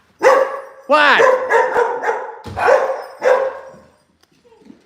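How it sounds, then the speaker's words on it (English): A dog barks loudly and close by in a rapid series of sharp barks and yelps, then falls silent, with one brief spoken word from a person. "Bark, bark, bark."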